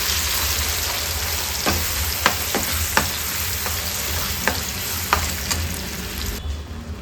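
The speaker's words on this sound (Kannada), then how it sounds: "ಖರ್ಜೂರ ಪೇಸ್ಟನ್ನು ಸೇರಿಸ್ಕೊಳ್ಳೋಣ ಚೆನ್ನಾಗಿ ಮಿಕ್ಸ್ ಮಾಡ್ತಾ ಇರಬೇಕು ಉರಿ ನಿಧಾನ ಇರಲಿ" Thick date paste stirred in a pan over a low flame, with steady soft frying hiss and a series of sharp spoon scrapes and clicks against the pan, alone without talk.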